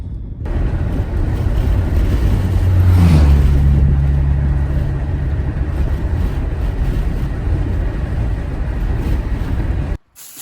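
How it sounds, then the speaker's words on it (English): A tractor engine runs steadily while loading its bucket on a farm, a loud close diesel rumble that swells briefly as the throttle rises midway, then holds, ending with a quick cut. "Just using this tractor, loading up the bucket"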